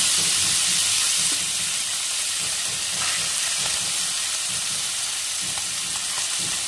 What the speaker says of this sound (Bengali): এখন আমি মাছগুলো এর মধ্যে দিয়ে ভালো করে ভেজে নেব।